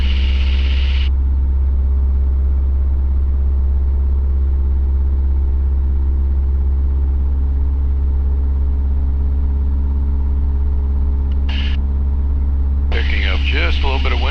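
Luscombe 8A light airplane engine at takeoff power, a loud, steady low drone throughout, with brief bursts of talk at the start, near the middle and at the end.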